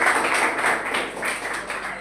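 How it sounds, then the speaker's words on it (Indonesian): A classroom of children clapping for a classmate named Via during a religious studies lesson, a steady dense patter of hand claps lasting a couple of seconds. "Tepuk tangan untuk Via."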